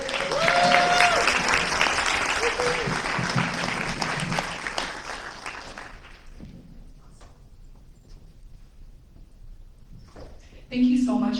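An audience at a diversity, equity and inclusion symposium applauds the university president. Loud, dense clapping fills the room, then fades into scattered claps and murmurs before a short renewed burst.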